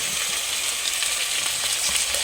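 Raw prawns frying with onion pieces in a pan, a dense continuous sizzle held at close range and steady loudness throughout, with no voices.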